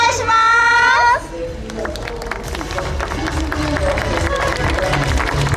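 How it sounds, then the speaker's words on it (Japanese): Audience clapping at a Super GT race event at Fuji, a steady crowd patter that follows a short tonal sound, with a voice speaking over it. "本当にすごい拍手、嬉しいです"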